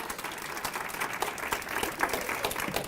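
An audience applauds with dense, moderately loud clapping that stays fairly even across about three seconds, with no talk over it, at a talk or presentation honoring a new PhD.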